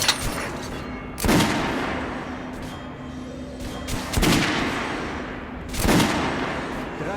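Gunfire at a shooting range in the video game Metro Last Light Redux, three loud, sharp shots spaced over a few seconds, each with a booming decay and a low hum between them.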